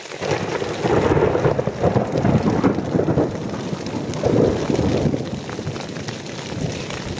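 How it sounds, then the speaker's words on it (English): Thunder rolls through a heavy rainstorm pounding a tent's rainfly at a backcountry campsite in freezing weather in Pisgah National Forest, a loud continuous rumble swelling twice over steady rain noise with no talk. "obviously we have some thunder too"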